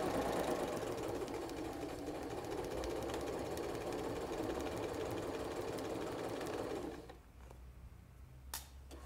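A sewing machine runs steadily for several seconds while stitching a placemat, a close, continuous mechanical whir that stops abruptly, followed by a faint click.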